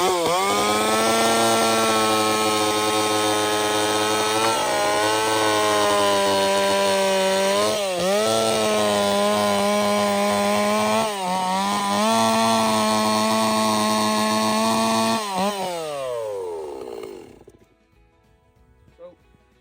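A chainsaw cuts boards outdoors while building a livestock shade hut, its engine droning loud and steady, with brief dips in pitch as it bites into the wood. It winds down to quiet near the end.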